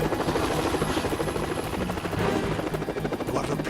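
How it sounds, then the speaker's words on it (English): A helicopter in the Metal Gear Solid 2 video game drones in a loud, constant rotor buzz and whir that fills the whole stretch without letup. "You are in a fucking helicopter at least 200 meters away"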